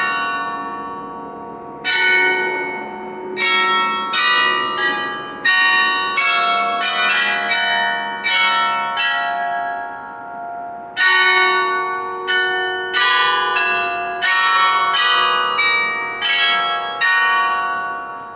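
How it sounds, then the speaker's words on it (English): Loud church bells ringing across a Hamburg street, a long, close peal of overlapping, resonant strikes with a brief lull midway before the ringing resumes. "Whoa, more bells. We are being treated today."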